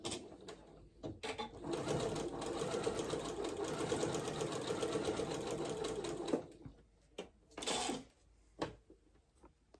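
Sewing machine stitching straight across fabric pieces for a New Look N6704 garment, a steady fast mechanical whir running for several seconds close by, then stopping and giving way to a few short handling thumps.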